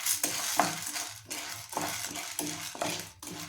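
Chana dal and urad dal fry in a spoonful of oil in a kadai, giving a soft sizzle broken by repeated scraping stirs of a spoon against the pan, close and fairly quiet.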